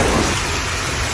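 Heavy rain pours steadily during a thunderstorm in Ontario, with a dense continuous hiss and a low rumble of thunder underneath, loud and close throughout the short stretch.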